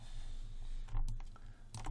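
Keys on a computer keyboard are pressed during 3D modelling work in Maya 2017, with a few quiet, sharp clicks in quick succession over a low background hum.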